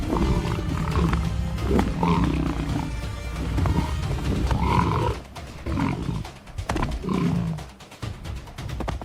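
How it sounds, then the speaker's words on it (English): Wild lions fight over a kill, clashing and grappling while letting out loud, deep overlapping roars and growls in close succession, with grunts and rough scuffling throughout. "Lions clash, grapple, and roar"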